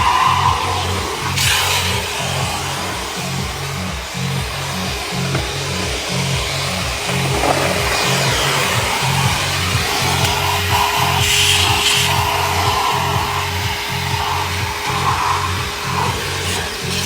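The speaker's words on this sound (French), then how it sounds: "l'aspirateur c'est finish" A vacuum cleaner motor drones continuously with a pulsing low hum and a hissing airflow, close and steady, with occasional rubbing and knocking over it.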